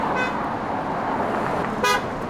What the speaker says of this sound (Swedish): varför tutar folk?